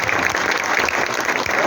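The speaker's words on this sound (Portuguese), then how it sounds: "As palmas louvam o nome do Senhor." A church congregation claps together in praise, a dense, sustained burst of applause that fills the room evenly from start to finish.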